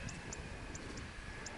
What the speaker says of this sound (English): There's the airplane going to the airport.